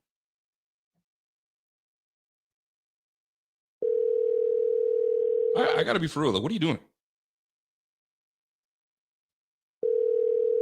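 An outgoing phone call gives a steady ringback tone, one long tone and then a second after a silent gap, with a voice cutting in briefly over the first tone.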